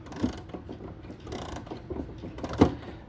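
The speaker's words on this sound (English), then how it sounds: "This Ansonia is a pleasurable thing to wind, especially how smooth it is to wind." An Ansonia clock being wound by key, its ratchet giving off a steady series of smooth clicks and gear noises, close and clear with no talk.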